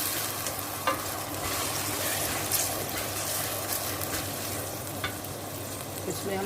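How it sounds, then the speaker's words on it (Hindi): Tomatoes, green chillies and garlic-ginger paste frying in a pan for aloo gobi, a steady close sizzle with continuous crackle and occasional stirring clicks, no talking. "ये तमाम चीज़ें ऐड करने के बाद इसको अच्छे से भून लेते हैं।"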